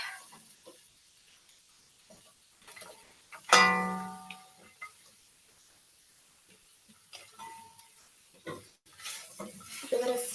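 Zucchini and cherry tomatoes being stirred in a pan, with a sharp clatter of a utensil against the pan followed by quiet scraping, soft sizzling and light clinks, close and mostly faint.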